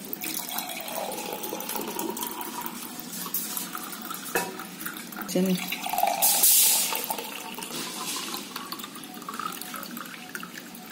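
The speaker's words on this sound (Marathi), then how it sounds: "आता एक ग्लासामध्ये मी ओतते" Rasna drink poured into a glass, a steady liquid splash and trickle with a brief louder gush near the middle, close and continuous.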